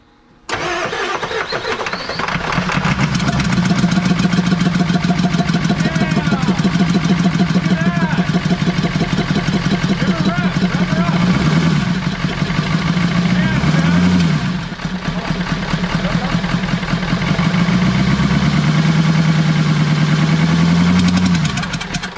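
Ford E350 4x4 van with a 7.3 diesel catches on a start using glow plugs and ether, then runs with a loud, steady, rough clatter close by, rising and falling a little over about twenty seconds.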